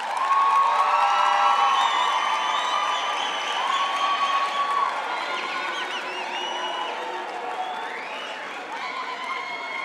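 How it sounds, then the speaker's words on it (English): A graduation ceremony crowd applauds and cheers continuously, a broad wash of clapping mixed with shouting voices that holds fairly loud throughout, with whistles and calls rising over it. "Please turn to them and you give them a hand of applause."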